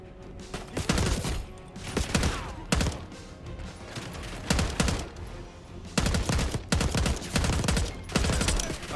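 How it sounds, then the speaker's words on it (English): Automatic assault rifle fire in the Call of Duty: Black Ops 6 campaign, loud repeated bursts of rapid gunshots with short gaps between them, continuing throughout. "Someone just shoot me from behind?"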